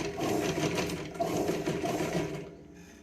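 A sewing machine topstitches the folded lining of a katori blouse, a close rapid mechanical whir of needle strokes running steadily for over two seconds before slowing and fading, with no talking.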